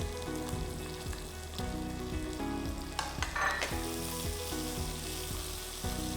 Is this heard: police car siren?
no